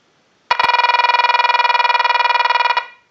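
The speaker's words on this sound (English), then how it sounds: "send a ring cycle like you were getting a call" An electronic telephone ring cycle from a line analyzer, sent to a lineman's buttset, buzzes loudly for about two seconds, a rapid warbling tone that starts abruptly, then stops and fades out.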